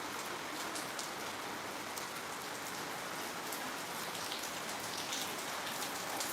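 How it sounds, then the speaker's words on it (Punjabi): Steady rain pours on a surface during a days-long monsoon spell, a constant even hiss of dense droplets, moderately quiet and uninterrupted, with no voices. "ਇਹ ਮੀਂਹ ਪੈਂਦੇ ਨੂੰ ਹੋ ਗਿਆ ਅੱਜ ਚੌਥਾ ਦਿਨ"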